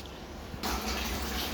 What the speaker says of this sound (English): At the moment I'm just draining the machine to get rid of the product.